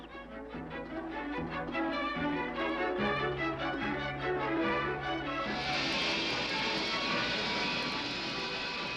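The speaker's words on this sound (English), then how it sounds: "New planes have been developed that rise vertically and fly at jet speeds." A loud aircraft engine drones steadily, a low throbbing pulse giving way to a bright rising jet whine, with no voices.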